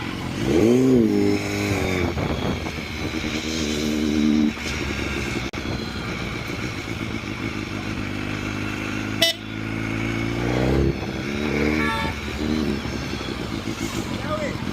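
A 2016 BMW S1000R motorcycle rides along and accelerates, its engine rising and falling in pitch under steady wind, with a horn sounding and someone talking over much of it.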